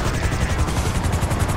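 Helicopter in GTA 5 Online, its rotor thumping loudly and continuously up close, a dense rhythmic whir with no voices.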